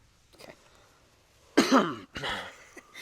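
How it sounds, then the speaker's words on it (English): A single close cough with a throat-clearing burst, followed by a second rougher cough, in an otherwise quiet room. "I got a cough."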